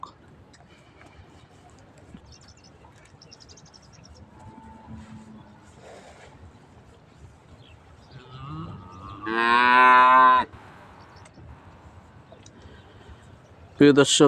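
A single long, loud moo from an Australian cross cow rings out nearby amid quiet farmyard ambience with hundreds of cows, faint speech and a few other distant animal sounds.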